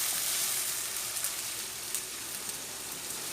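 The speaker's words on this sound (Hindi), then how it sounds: "प्याज लाइट ब्राउन कर लें" Onions fry in a pan until light brown, a soft, steady sizzle with faint crackles and occasional stirring, heard alone without voices.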